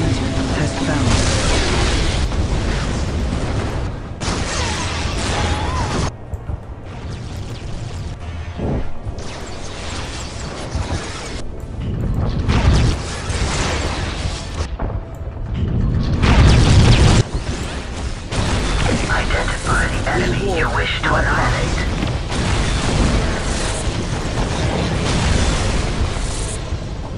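Enemy fire and explosions in the strategy game Dawn of War, with orcs approaching. Dense, continuous battle noise carries booms and crashes throughout, loud and busy, with unit voice lines mixed into the din.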